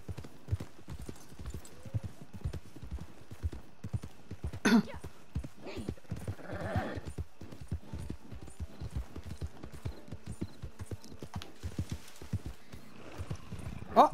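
A ridden horse named Rambo in a video game clip-clops in a steady, even gait for over a dozen seconds, one brief whinny partway through, with quiet game ambience underneath.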